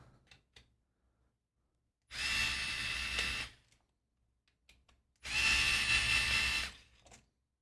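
A power screwdriver backs out the case screws of a Chordie chording split mechanical keyboard in two separate whirring bursts of about a second and a half each, close and loud, with quiet handling clicks between them and no talk.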